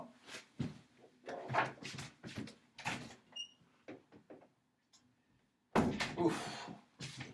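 A door being opened in a home, heard as a few soft thuds and handling knocks amid people talking, followed by a louder burst of movement near the end.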